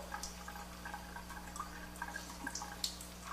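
Water runs from a Jupiter Melody JP 104 (AlkaViva) water ionizer turned down to an easy flow, giving a faint, steady trickle with small drips over a low background hum.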